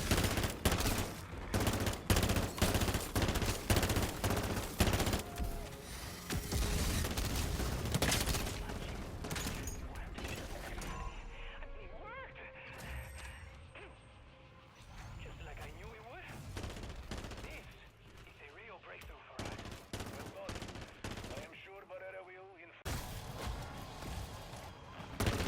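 Rapid weapon fire rings out in MW3 Zombies, long bursts of shots crackling densely, then thinning to scattered volleys with some faint voices in the game.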